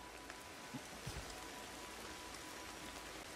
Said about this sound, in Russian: Дождь катанул, серьезно!